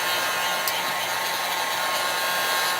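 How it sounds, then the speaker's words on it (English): A high-heat air gun blows hot air steadily for the whole stretch, a loud, close, continuous broadband whoosh with no pauses, used on a chalk transfer for a winter scene on an A-frame. "especially if it's a really high heat air gun."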